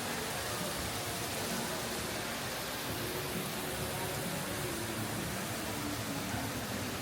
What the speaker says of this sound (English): Look, it's got its own little waterfall in here as well.